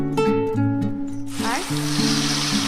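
A single bay leaf dropped into hot oil in a pan for a Bengali tilapia curry, setting off a sudden loud, steady sizzle that keeps crackling close by to the end.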